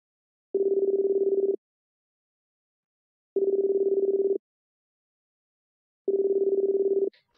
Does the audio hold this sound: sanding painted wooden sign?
no